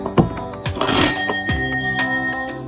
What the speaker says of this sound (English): This is our cool doorbell.